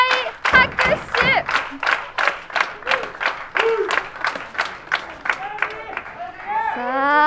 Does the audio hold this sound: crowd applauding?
yes